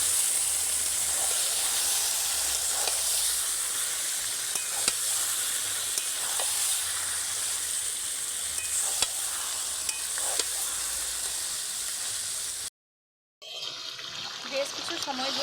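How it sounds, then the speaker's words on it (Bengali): Chicken frying with garlic and green chillies in a pan, a steady loud sizzle and hiss with occasional stirring scrapes throughout, cutting off briefly near the end before returning more quietly. "রসুন আর কাঁচা লঙ্কা ওগুলো ভাজা হতে হতে ধুয়ে রাখা চিকেন দিয়ে দিচ্ছি।"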